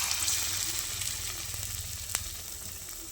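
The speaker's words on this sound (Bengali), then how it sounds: "আর এটা ডুবো তেলে ভাজতে হবে।" Battered cauliflower chops deep-frying in hot oil in a wok, giving a soft, continuous sizzle with one sharp tap partway through and no voices.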